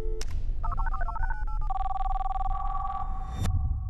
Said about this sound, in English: I think you heard the phone ring.